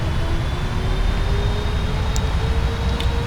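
Boeing 777 engines spool up for takeoff in the PMDG flight simulator game, a steady loud broadband roar with deep rumble and a faint rising whine running through it, no voices over it.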